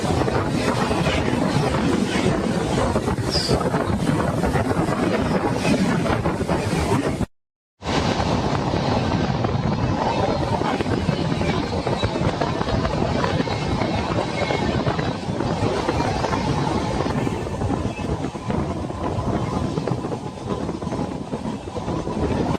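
The Kalindi Express rolls through a station on its run between Diwan and Prayagraj, giving a loud, continuous rumble and clatter of passing coaches with wind buffeting the microphone, broken by one brief dropout.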